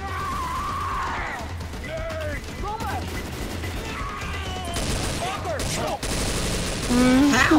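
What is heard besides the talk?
gunshots in a video game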